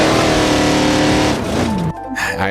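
A loud off-road crawler engine in BeamNG.Drive roars close and constant, then its pitch sweeps down and the revs drop away before it picks up again.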